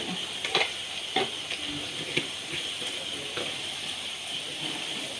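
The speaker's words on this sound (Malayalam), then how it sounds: "നല്ല ഇളക്കി കൊടുക്കട്ടെ" A spoon stirs eggs frying in a pan with a pinch of turmeric, giving quiet scraping taps over a soft, steady sizzle, fairly faint and without talk.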